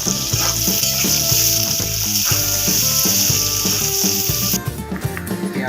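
Chopped onion frying with diced potatoes in a pan for chicken singara filling gives a continuous hissing sizzle under steady background music, without any talk.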